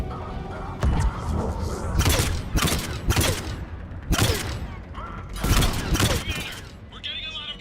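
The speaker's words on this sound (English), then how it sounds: "We're getting a lot of mortar fire." Mortar fire and gunfire in the video game Mass Effect 3 land as repeated loud, sharp bursts and booms with mechanical clanks in between, mixed under game dialogue.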